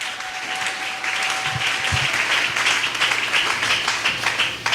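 A church congregation at a Sunday worship service applauding, a sustained wash of many hands clapping at moderate distance, with a brief voice and low thumps early on.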